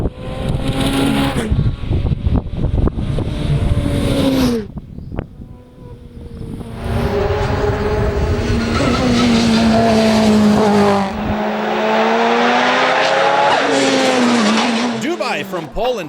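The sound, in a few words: Ferrari 488 Challenge race car racing on track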